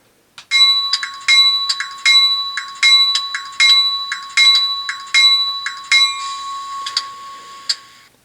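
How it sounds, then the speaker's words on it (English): A bright HO scale model locomotive bell, from a Bowser GMD SD40-2 sound unit, rings repeatedly in a steady, evenly spaced rhythm, each strike clear and resonant, ending with a lingering ring and a faint final tap. "let's listen to the bell."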